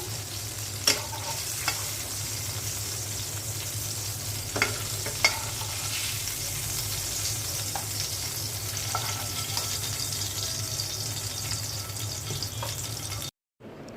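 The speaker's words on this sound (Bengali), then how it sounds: "মাছ ভাজাটা উল্টে দিচ্ছি মাছ ভাজাটা হয়ে গেছে" Oil sizzles steadily in a pan as fish fries, with occasional scraping clicks of a utensil over the constant crackle.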